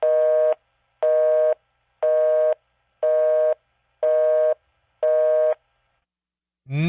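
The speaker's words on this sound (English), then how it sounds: "Busy signal at the very least." Telephone busy signal heard after dialing 911, six evenly spaced electronic tone bursts with clean gaps between them, steady and loud, followed by a brief different sound at the very end.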